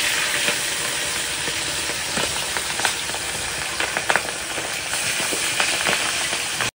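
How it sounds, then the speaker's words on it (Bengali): Hilsa fish pieces fry in hot oil with a steady, dense sizzle, broken by sharper spits and pops. The sizzle is close and continuous, and no one speaks. "এভাবে সব মাছগুলো এখন ভেজে নেবে"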